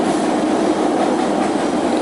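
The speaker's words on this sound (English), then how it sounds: "sorry about the train" A train rolls steadily past close by, its carriages giving a continuous rumbling roar with a faint clatter of wheels and no voices.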